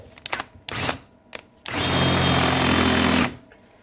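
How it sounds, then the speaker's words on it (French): A few short mechanical bursts and scrapes, then an electric drill whines steadily for over a second drilling a potter's wheel head to a tape mark, before stopping, close and loud. "Donc je perce jusqu'à la marque du scotch."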